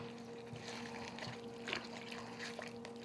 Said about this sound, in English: So I'm going to put my leeks in this big bowl of water